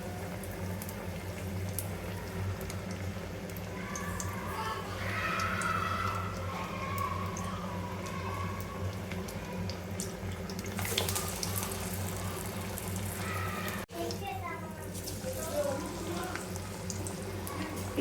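Sweet corn vadas frying in hot oil over a medium flame: a dense, steady bubbling sizzle with fine crackles and a brief burst of louder spattering partway through, close and continuous.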